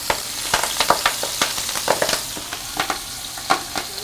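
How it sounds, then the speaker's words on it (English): Swiss chard sizzles and crackles in hot oil in a frying pan, with sharp irregular pops over a steady frying hiss, close up. "Swiss chard goes in with a nice sizzle"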